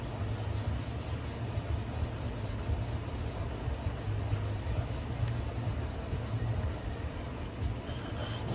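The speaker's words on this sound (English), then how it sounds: "I use every bit of my sandpaper, edges and everything." Sandpaper rubs steadily against a handmade knife blade being prepped for scales, a continuous close, even scratching rasp with no pauses and no voices.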